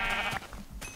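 A sheep in Minecraft gives a short bleat, then a second briefer bleat follows, close and clear with no talking.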